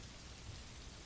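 Steady rain falls during a storm, a soft, continuous hiss of drops on a surface with no voices, holding an even, low level throughout.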